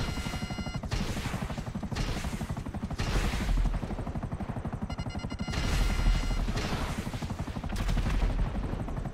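A support helicopter in a war video game thrums under bursts of heavy gunfire and machine-gun fire, loud and close, with rhythmic rotor pulsing and intermittent booms.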